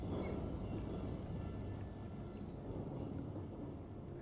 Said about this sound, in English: And the train car is moving again.